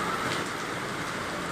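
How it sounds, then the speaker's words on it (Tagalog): Heavy monsoon rain driven by gusting wind pours down in a steady, dense roar that stays loud and unbroken throughout, with no voices. "dahil sa lakas at bugso ng hangin at ulan"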